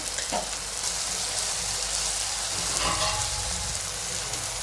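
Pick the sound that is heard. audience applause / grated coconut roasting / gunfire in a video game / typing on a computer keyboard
grated coconut roasting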